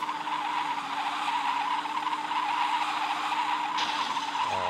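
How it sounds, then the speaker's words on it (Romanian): A BMW 3 Series drifting, its tires squealing in a steady, sustained screech over the engine's drone, heard close from inside the car with no talk. "Și apoi o luăm pe drift"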